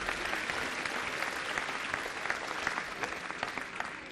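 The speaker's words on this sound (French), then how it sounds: "on peut les applaudir quand même" Steady applause from an audience at a town New Year's greetings ceremony in Longpont-sur-Orge, a dense even patter of clapping sustained for about four seconds with no voices over it.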